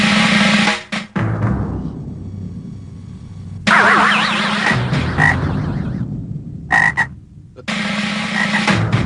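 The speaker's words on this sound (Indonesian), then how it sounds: "Namanya kodok buduk." A toad croaks in loud, close, rasping bursts with gaps of silence between calls, its pulsing warble repeating several times in a dramatized film scene.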